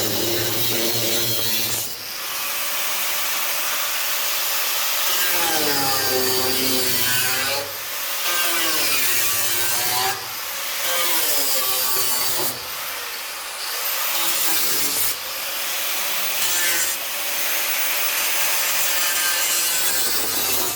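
Cutting into a Fiat Punto GT Turbo body panel, a long, loud and harsh grinding cut that runs almost without a break, with a pitch that rises and falls and short dips every few seconds as the blade bites and eases.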